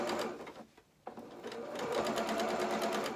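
A domestic sewing machine stitches a collar seam on a fisherman's top, running in a steady close whirr, pausing briefly for about half a second before starting up again and continuing to the end.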